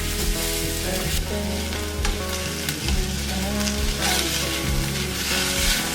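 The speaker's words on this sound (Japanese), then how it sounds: "鶏ひき肉をお鍋に入れて火を通す。" Continuous sizzling and frying as ground chicken cooks in a pot, busy and fairly loud, with stirring noises mixed in.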